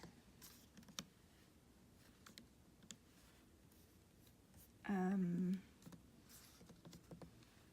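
Someone types a short message on a keyboard, producing faint, scattered clicks over quiet room noise, interrupted by a brief tonal beep midway.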